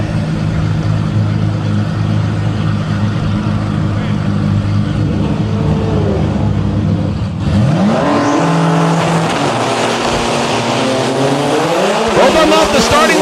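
Drag race cars, one a dark red Nissan GT-R, sit rumbling at the line of a qualifying session, then launch with a sudden loud roar, climbing engine pitch and tire squeal; a commentator talks throughout.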